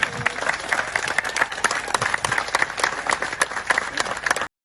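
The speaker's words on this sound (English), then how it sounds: "Massive round of applause" Festival crowd at The Great Outdoors Festival 2021 applauds an outdoor stage act, dense clapping with sharp individual claps standing out, steady and fairly close, stopping abruptly near the end.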